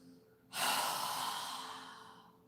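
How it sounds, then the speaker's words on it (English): A strong exhale through an open mouth follows a deep breath in through the nose during a yoga session, heard as one loud, close rush of breath that slowly tapers off. "We're going to take 3 deep breaths, inhaling through our nose and exhaling with our mouth open with a strong exhale."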